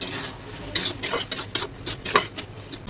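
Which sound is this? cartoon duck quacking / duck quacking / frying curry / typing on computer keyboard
frying curry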